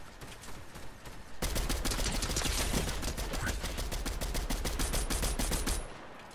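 Automatic gunfire in Fortnite from another player, a long rapid burst of evenly spaced shots that starts abruptly after a quieter lead-in, stays loud and steady for over four seconds, then cuts off.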